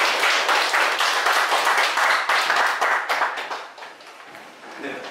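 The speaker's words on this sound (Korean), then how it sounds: "다시 한번 큰 박수 부탁드립니다" Audience applause at a National Assembly seminar on data security, a dense patter of clapping that is loud at first, then thins and fades toward the end.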